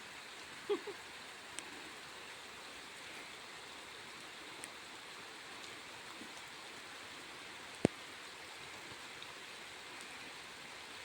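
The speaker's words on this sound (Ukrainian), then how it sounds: "Дощ іде" Steady, soft rain hisses continuously in the background, with a few faint drips and knocks scattered through; no voices.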